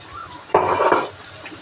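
Spices stirred into fried onion in a metal cooking pot give a single brief scraping clatter, close and fairly loud, with quiet kitchen background before and after.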